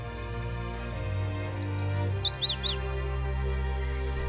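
Great spotted woodpecker chicks calling from a nest hole in a forest as they are fed, heard as a short run of high, quick chirps in the middle of the clip over a steady low background hum.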